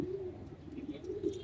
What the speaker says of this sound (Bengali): এটা হইতেছে একটা বেগুনি গলা মাদি জাবরা কবুতর।